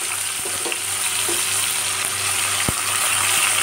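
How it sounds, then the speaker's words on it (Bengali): Chopped onions sizzle and fry in hot white oil in a pan, a steady loud crackling hiss with occasional sharper pops and stirring knocks, no talk. "এবার আমি পেঁয়াজগুলো এর মধ্যে দিয়ে দেব।"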